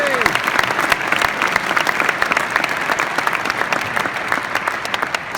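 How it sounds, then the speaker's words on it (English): A large audience at the Century of Colorado Golf Gala applauds the MC, loud close clapping with sharp individual claps standing out over a thick, sustained roar of hands, continuing strongly throughout. "a round of applause for our MC"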